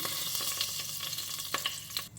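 Whole spices such as cinnamon, cardamom and cumin sizzle and crackle briskly in hot oil, a close, continuous frying hiss with small pops.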